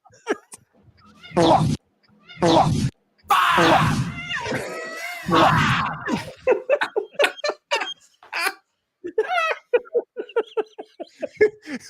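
A cat gives loud, ragged screams in several long bursts, followed by quicker yowls and chattering cries that sound close and harsh, with voices and laughter mixed in.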